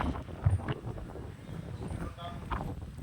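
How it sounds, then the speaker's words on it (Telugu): Strong wind gusts buffet the microphone at a temple, rumbling in uneven bursts while voices talk nearby. "అంత ఫోర్స్ వస్తుంది గాలి"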